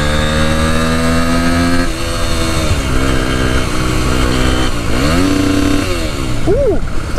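A Derbi 125cc motorcycle engine revs hard and close, bouncing against the rev limiter with wavering pitch, drops and quick re-revs, loud throughout.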